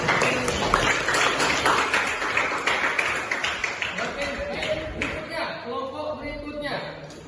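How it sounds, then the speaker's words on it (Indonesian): A classroom of students claps hands together in a teacher training session, a dense patter of claps running throughout with voices mixed in. "Iya, oke, tepuk tangan."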